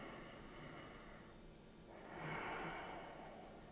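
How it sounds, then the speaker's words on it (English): Deep belly breathing, a slow, soft inhale followed by a louder, breathy exhale, close and alone in a quiet room. "I want you to take 3 deep belly breaths with me"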